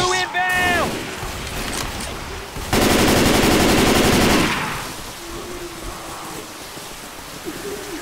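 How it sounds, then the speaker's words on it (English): Gunfire from the Left 4 Dead 2 Hard Rain campaign, with a dense, loud burst of rapid shots in the middle under steady rain-like hiss, a voice calling out at the start. "I hear a sniper."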